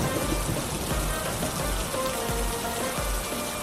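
Rain falling steadily on a hillside in Afghanistan, a dense even patter with scattered heavier drops, close and moderately loud throughout with no voices.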